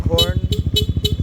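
The stock horn of a Yamaha XMAX 300 scooter sounds in a rapid series of four short beeps, close and fairly loud, over a low rhythmic engine idle.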